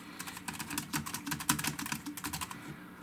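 Fast, clicky typing on a Caseflex Bluetooth keyboard, a close, steady patter of crisp key presses with no voices.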